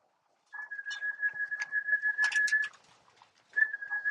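Racing pigeons cooing and calling at a loft, a sustained steady tone with soft bursts of calls that pauses briefly, then resumes, fairly quiet with no talk.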